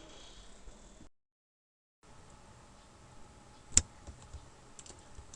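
Keys clicking on a computer keyboard while HTML code is entered, quiet, sparse taps with a short silent gap and one sharper click later.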